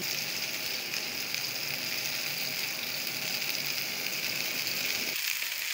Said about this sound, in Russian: На разогретую сковороду с растительным маслом выкладываем наши котлеты. Поджариваем с одной стороны